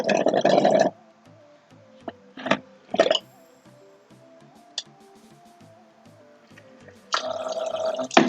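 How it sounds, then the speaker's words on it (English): Water leaking from a homemade two-stage aquarium filter, heard up close: loud splashing bursts at the start and end, with scattered single drips and faint trickling in the quieter stretch between. "Yeah, I have to fix the leak."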